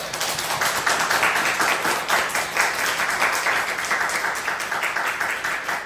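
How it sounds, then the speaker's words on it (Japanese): A standing church congregation applauds in thanks after a Sunday worship service, dense, close clapping that stays strong and even throughout. "広坂先生今日お越しくださったことを感謝の拍手をしたい"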